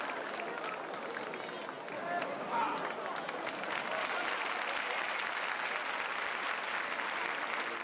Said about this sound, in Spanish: La plaza ha roto el silencio con aplausos